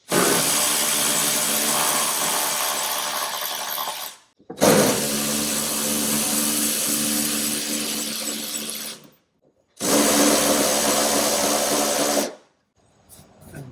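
A power tool loosens 12 millimeter seat bolts holding the back seat of a rusty car, sounding as three long, loud, steady buzzing runs separated by brief gaps, up close with no talk.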